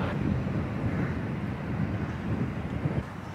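Strong headwind buffeting the microphone on a golf course beside the water in Dubai, a continuous low rumbling roar with gusty swells and no other sounds.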